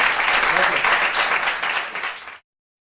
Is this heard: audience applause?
yes